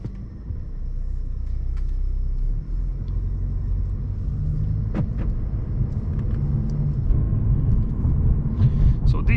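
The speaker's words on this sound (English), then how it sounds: "welcome to the driving part of the C-Class facelift." Interior of a 2020 Mercedes C-Class facelift with the 220 diesel engine driving, steady low engine and road rumble throughout with a few brief knocks and clicks, no voices.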